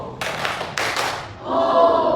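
Fourth-grade pupils clap in unison during a classroom ice-breaking game, two or three quick bursts of hand claps, then group chanting takes over, close and lively.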